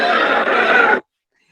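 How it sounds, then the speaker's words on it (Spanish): A loud, shrill squealing cry, made from a pig's squeal and bee sounds, holds for about a second, harsh and strained, then cuts off abruptly into silence. "utilicé el sonido de un pobre cerdo gritando y de abejas"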